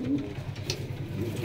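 Domestic pigeons cooing in a breeder's loft, a low steady throaty coo rolling on close by, with faint background noise.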